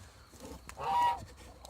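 A single faint goose honk rises briefly out of quiet farmyard background near the henhouse.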